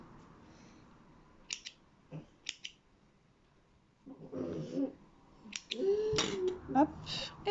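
Scissors snip several strands of crochet yarn for a sheep amigurumi, giving a few crisp close clicks in quick pairs, followed by someone speaking.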